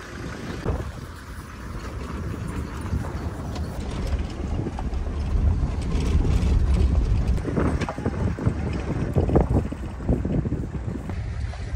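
Jeep four-wheel drive on a mountain track near Mt. Meru, Tanzania, its engine rumbling with rattling mechanical clatter and wind buffeting the microphone throughout.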